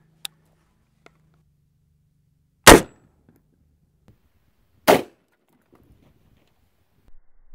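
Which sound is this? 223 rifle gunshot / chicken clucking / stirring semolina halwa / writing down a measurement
223 rifle gunshot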